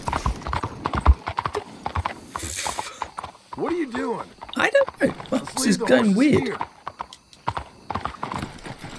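Horse hooves clopping steadily and a horse whinnying in Red Dead Redemption 2, close and fairly loud, while voices talk over them.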